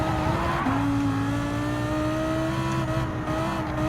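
A race car engine in Gran Turismo 7 drops in pitch as the car brakes into a corner, a loud sustained whine easing downward, with faint tyre noise beneath.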